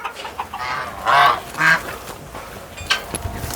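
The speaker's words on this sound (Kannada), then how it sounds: "ಇವು ಹೆಬ್ಬಾತು" Geese honk nearby in a few loud, separate calls, with quieter rustling and faint background noise between them.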